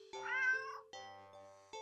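A cat meows in a cat video game: one long, drawn-out meow followed by two shorter, sharper mews, clear and close with no talking.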